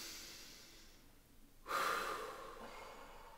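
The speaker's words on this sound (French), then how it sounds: "Et une respiration dynamique." A sharp, fast breath pushed out during a dynamic breathing exercise in a sophrology session, close to the microphone and fading into a quiet room without talk.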